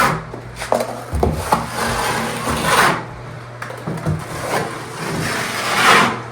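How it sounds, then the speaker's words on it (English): A trowel drags and scrapes MicroTek material across a shower wall in repeated smoothing strokes, each rasping pass rising and fading close up, with a steady low hum underneath. "take any one of your trowels and start smoothing that out"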